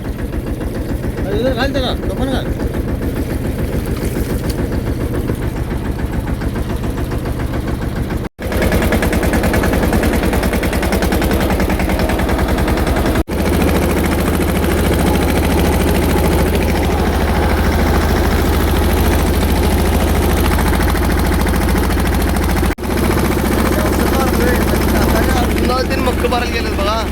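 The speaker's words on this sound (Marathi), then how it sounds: "त्याने ढकलून ट्रॅक्टर चालू करून दिला" A tractor engine runs on a farm field after being push-started, giving a loud, steady low chugging rumble that continues without a break while people talk nearby.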